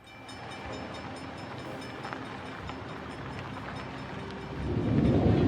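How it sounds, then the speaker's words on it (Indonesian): A train rumbles past with a steady rolling clatter, swelling into a louder, deeper roar near the end as it draws closer. "hingga saat kereta api melintas"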